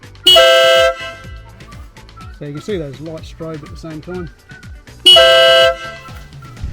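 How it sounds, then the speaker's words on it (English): Two loud, sustained blasts from a Denali SoundBomb motorcycle horn, each about half a second, several seconds apart, with someone speaking between them. "Now I'm just going to press the horn here. It's going to be quite loud."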